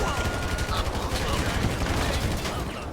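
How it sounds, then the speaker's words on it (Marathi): Rapid gunfire from a GTA 5 shootout, dense and continuous bursts of shots packed together for the whole stretch, loud and close. "आता इथं आपल्याला फायरिंग करायची आहे सगळ्यांवर"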